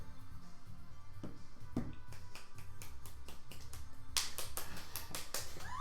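A few scattered claps at first, then a brief burst of brisk, steady clapping from a small group, fairly close.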